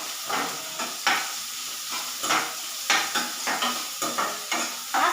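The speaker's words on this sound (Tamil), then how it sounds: "காஞ்ச மிளகாய் போட்டு வதக்கி விட்டுக்குவோம்." Dried red chillies sautéing in hot oil in a pan for homemade pasta, a steady close sizzle broken by repeated scraping stirs of a spoon against the pan, with no talk.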